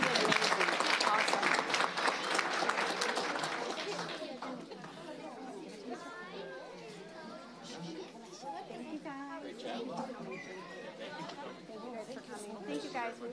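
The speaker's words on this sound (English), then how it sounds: "If we give them one more round of applause" Applause for performers at a Rockford Public Schools committee meeting, a dense loud burst of clapping for about four seconds that fades into crowd chatter and murmuring voices.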